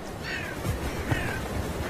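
Crows and ravens give two hoarse caws, a short while apart, moderately distant over a steady outdoor background.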